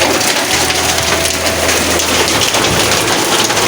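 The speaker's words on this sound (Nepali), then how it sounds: "पुरै असिना झरेको देख्न सक्नुहुन्छ" Heavy hail and rain pour down steadily in a close, dense hiss and patter, with a low rumble beneath and no voices.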